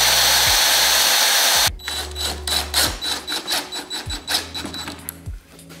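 A power drill whirs loudly for over a second while drilling into a piano hinge for a folding bed in a school bus conversion, then gives way to a series of short rattling clicks and bursts as the bit works in.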